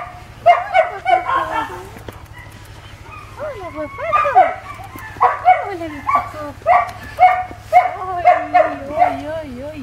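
A dog barks in short yips and whimpers close by, in rhythmic bursts with whining pitch slides between them.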